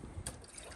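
Water thrown over a dirty car engine to loosen dirt makes a soft, brief wash of splashing and trickling, faint and close.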